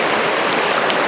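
Rushing water from a flood-swollen waterfall with rapids at Wolf Creek in Arizona, a steady broadband hiss, moderately loud and continuous, with no voices.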